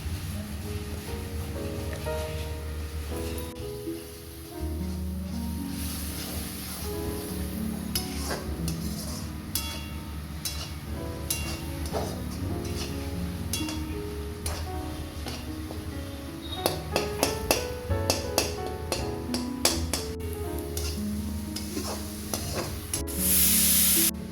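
Slit green chilies, Kashmiri chili and capsicum frying in a spice mix: a steady loud sizzle runs throughout, with a utensil scraping and clinking against the pan in bursts near the end, close up and without talk.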